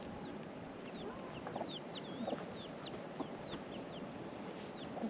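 Chickens cluck and chatter in a run at the Feather River Inn, a 1920s resort in the Lost Sierra, with repeated short calls and chirps over a soft, steady ambient background.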